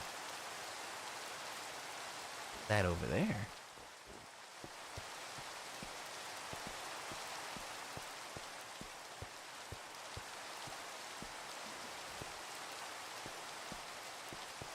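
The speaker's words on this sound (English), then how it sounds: "I think I hear rain in Minecraft." Steady rain falls in a Minecraft world, a soft continuous hiss with faint repeated ticks, broken early by a brief louder burst and a short spoken remark.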